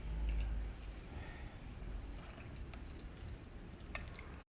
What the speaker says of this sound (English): we will inject the water.